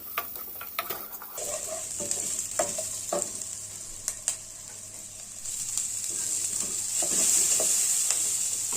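Two large chopped onions with curry leaves sautéing in oil for capsicum gravy, a bright sizzle that swells as they hit the pan, with scattered spoon clicks and stirring scrapes, the frying growing louder toward the end.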